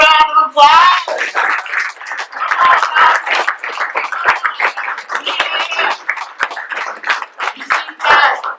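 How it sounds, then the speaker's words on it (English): A round of applause breaks out at home after a brief voice, a lively patter of clapping hands from a small group that carries on steadily for several seconds, close and fairly loud. "Can we give her a round of applause?"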